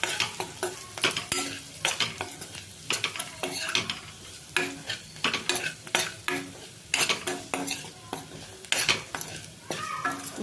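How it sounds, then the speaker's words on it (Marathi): Spiny gourd (kartule) is stirred into masala in a pan, with a spoon scraping and clinking against the metal in quick uneven strokes over a soft sizzle, close and fairly loud with brief pauses between. "आता छान याला मिक्स करून घ्यायचं आहे या मसाल्यांमध्ये आपल्याला"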